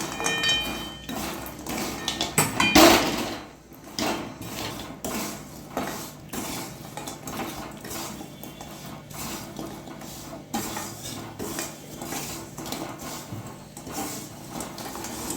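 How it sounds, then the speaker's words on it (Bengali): Fried goja, crisp flour sweets, are stirred into sugar syrup in a pan with a metal spoon, producing a busy run of clattering, scraping knocks, loudest near the start, then steadier rhythmic scraping. "গজাগুলো ঢেলে দেবো। ভালো করে মিক্স করে নেবো রসের সাথে।"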